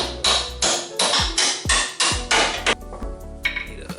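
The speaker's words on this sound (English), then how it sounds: "I'm just going to pop the 2 bolts out with the hammer" A hammer knocks two bolts out of the Panhard bar on a third-generation Toyota 4Runner, a run of sharp, close metallic strikes in a steady rhythm, about seven heavy blows followed by lighter ringing taps.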